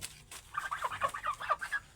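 Purebred free-range chickens with a rooster, kept for organic egg-laying, give a run of close, rhythmic clucks and chatter that builds after a quiet start and continues steadily to the end, with no voices.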